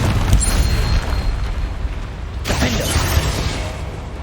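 Bombarda blasting spell in Hogwarts Legacy, heard as loud booming bursts over dense game ambience: one heavy impact near the start and another sharp blast around the midpoint, with rumbling debris between them.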